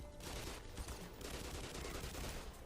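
Enemy gunfire in the Black Mesa video game, a continuous dense rattle of rapid shots aimed at the player, fairly faint and steady throughout without a break.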